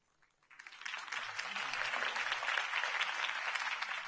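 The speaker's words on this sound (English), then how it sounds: "If only Mr. Wayne, my campaign's largest backer, could have heard that applause" Crowd applause from the Batman Telltale video game swells after a political campaign speech and then holds as a broad, sustained wash of clapping with no talk over it.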